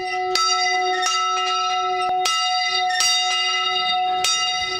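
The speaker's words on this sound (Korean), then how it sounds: "예배를 알리는 종이 울립니다" A church bell rings out to call the congregation to worship, with several resonant, evenly spaced strikes whose long metallic hum sustains and overlaps between each blow.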